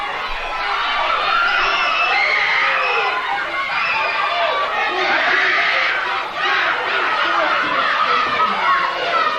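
A wrestling crowd at a 1989 Memphis show yells and shouts steadily at the referee, a dense, loud wall of voices that carries on without a break.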